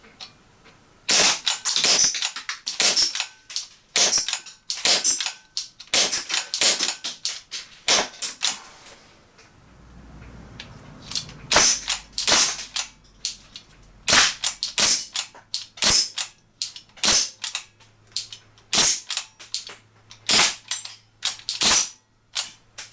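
A Crosman 1077 CO2 air rifle fires repeatedly at small metal spinner targets, each loud sharp crack arriving in quick irregular bursts with brief pauses, the shots close and dry, and a faint low hum beneath during one lull.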